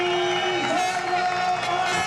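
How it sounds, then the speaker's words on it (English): A large crowd cheers for home rally hero Dani Sordo at the ceremonial start of the 2009 WRC Rally of Spain, a steady, dense roar of voices with a few whoops rising from it. "the home nation's hero, Danny Sordo, received the biggest cheer of the night"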